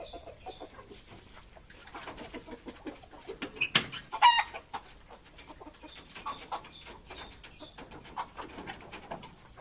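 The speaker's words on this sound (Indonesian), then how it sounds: "Ini ada ayam ketawa yang saya punya. Ini tipe disco atau kretekan." Ayam Ketawa laughing chickens of the disco or kretekan type calling in a home coop, a run of fairly quiet, repeated clucks and chattering calls with one louder burst near the middle, no voices.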